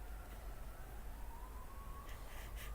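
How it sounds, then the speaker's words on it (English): An ambulance siren passes near a hospital in Edmonton, Alberta, coming through as a faint, steady wail in the distance under a constant outdoor background hum. "Right now I hear an ambulance going, but the hospital is nearby"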